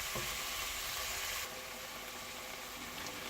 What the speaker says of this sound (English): So I'm going to fry this for 3 to 4 minutes as suggested, before adding the carrot, celery and garlic.